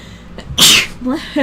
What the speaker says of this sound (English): Sudden sneezes.